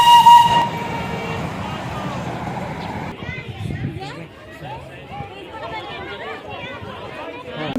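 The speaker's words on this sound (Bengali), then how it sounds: "আর এই দেখতেই পাচ্ছে টয় ট্রেন যাচ্ছে" Darjeeling toy train passing on the Batasia Loop in the hills, a steam whistle and hissing rail sounds at moderate distance, with voices and outdoor crowd chatter throughout.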